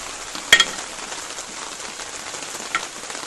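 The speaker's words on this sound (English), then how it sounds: "roast potatoes are cooking nicely" Roast potatoes on a barbecue give off a steady, soft sizzle and crackle, with a couple of sharper pops near the start and another around the middle, close and even throughout.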